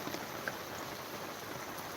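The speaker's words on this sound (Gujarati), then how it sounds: "કેટલો વરસાદ યાર" Steady rain falls in Dumlav village, Pardi taluka, during an out-of-season late-October downpour, a dense, even hiss of drops on surfaces that continues unbroken and fairly soft, with no voices.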